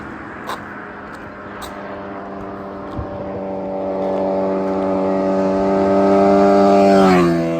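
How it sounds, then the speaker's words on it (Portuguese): Motorcycle engines rise in a steady rev on a street, growing louder and closer over several seconds before the pitch peaks and drops. "O pessoal gosta de acelerar um pouco aí também nas motos."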